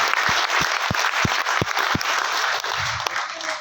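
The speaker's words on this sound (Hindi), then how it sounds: "तो मैं चाहूंगा एक बार सिस्टम के लिए जोरदार तालियां होनी चाहिए" Audience applause at an RCM business event hall in India, a dense steady wash of clapping from a large crowd with a few sharp thumps mixed in, loud and continuous throughout.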